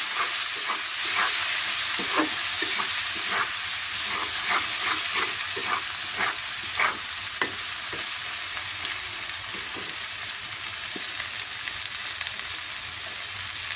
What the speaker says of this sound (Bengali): হলুদটা দিয়ে আরও একটু ভাজবো আমি